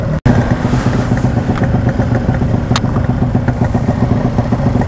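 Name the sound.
Yamaha RX King motorcycle with stock engine idling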